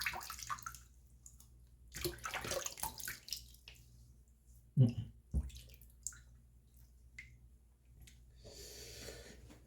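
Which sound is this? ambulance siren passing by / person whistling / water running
water running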